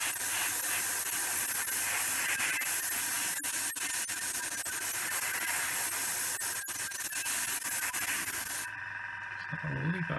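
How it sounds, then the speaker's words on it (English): An airbrush blowing air without paint, trigger not pulled back, gives a steady loud hiss that stops abruptly near the end, followed by a brief low rumble. "Just easier on the airbrush. So I'm not pulling the trigger back, I'm just blowing air through."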